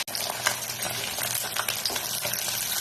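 Pieces of katla fish sizzle in hot oil in a pan, lightly fried to a reddish colour. A steady, dense crackling hiss runs close by and fairly loud throughout, with small pops and no voices.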